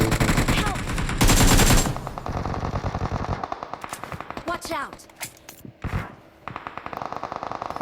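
Rapid automatic gunfire from PUBG Mobile rattles in dense bursts, then breaks into scattered single shots and short volleys, loud and close, with game-like effects between.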